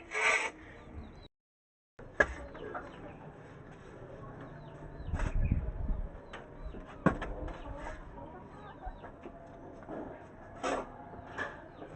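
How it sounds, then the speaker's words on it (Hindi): A shovel scrapes and scoops sand, then tosses it into a chicken coop, giving repeated rough grating strokes with soft thuds at a steady working pace. Faint bird sounds are heard now and then, and no one speaks. "बेलचे से मैं रेत भर भर के अंदर फेंकता हूँ"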